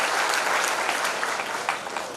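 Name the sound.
audience applause for Shaila Divakar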